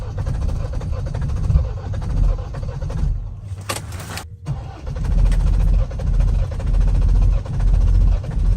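A Mahindra Thar engine being cranked by its self-starter in extreme cold around -30°C in Spiti, with a steady loud mechanical drone, a brief pause near the middle, then renewed engine noise.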